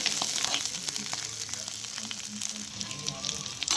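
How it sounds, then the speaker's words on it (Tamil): Garlic in its skin, green chilies and curry leaves sautéing in hot oil for a sesame chutney, giving a steady, close crackling sizzle with scattered pops and occasional stirring throughout. "பூண்டு பச்சை மிளகாய் கருவேப்பிலை போட்டு கொஞ்சம் நல்லா வதக்கி விடணும்"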